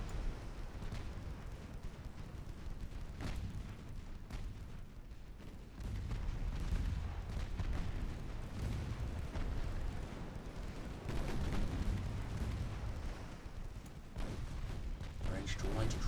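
Naval gunfire from warships in the game Ultimate Admiral Dreadnoughts, a steady rumbling barrage of deep booms with louder swells, mixed under game radio chatter and talk.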